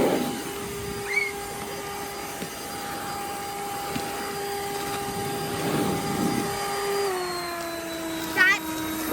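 A Ryobi 40V brushless 730 CFM electric leaf blower runs with a steady high whine and rushing air, then its pitch drops as it slows, with brief voices nearby.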